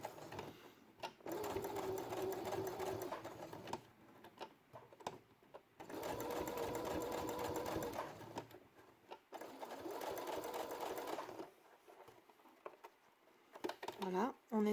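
A sewing machine runs a straight stitch 2 mm from the edge of layered felt for a quiet book page, whirring steadily in three long bursts separated by brief pauses, with faint handling sounds between.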